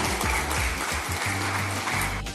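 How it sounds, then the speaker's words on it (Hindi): Applause at a community gathering held by Narayan Seva Sansthan in Panchkula, Haryana: steady, fairly quiet clapping from an audience in a hall, with a low hum beneath it, lasting a couple of seconds and tapering at the end. "सबके लिए जोरदार तालियां।"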